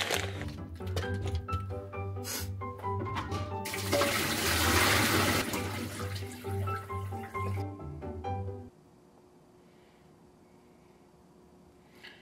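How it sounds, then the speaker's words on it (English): Tap water runs loudly for a few seconds as potato and carrot are washed in a home kitchen, over soft background music that fades away, leaving a quiet room. "And the potato, carrot. Okay, let's wash."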